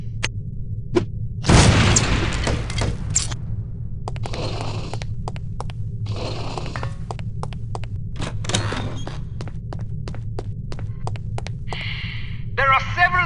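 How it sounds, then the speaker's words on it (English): An explosive lipstick bomb detonates in The Operative: No One Lives Forever, a sharp boom burst near the start over a steady low hum, followed by scattered clicks and small bursts of game effects. "These relatively inconspicuous-looking lipsticks are actually powerful explosive devices that detonate on impact"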